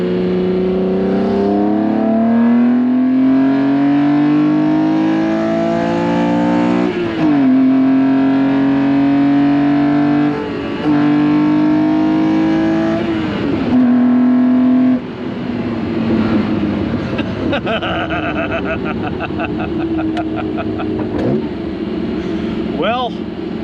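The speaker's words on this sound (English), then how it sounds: "The M88 is, well, the best sounding inline 6-cylinder BMW's made." BMW M1 with the M88 inline six-cylinder engine revving loudly and continuously, pitch rising and falling through several pulls with brief dips between, heard up close with voices over parts of it.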